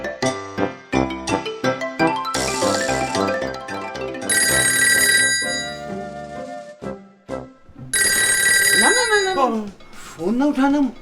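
A telephone rings in repeated bright electronic bursts, loud and close, with pauses between rings and some voice-like sounds mixed in.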